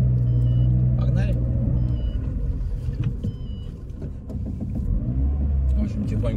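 A car pulls slowly out of a residential courtyard at low speed, a steady low engine rumble heard from inside the cabin, with a few faint clicks and a soft electronic tone.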